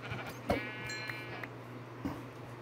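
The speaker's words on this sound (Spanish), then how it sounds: "Aquí hay una oveja" Sheep bleating in the Minecraft video game, a few short wavering bleats close by over a low steady hum, with no one talking.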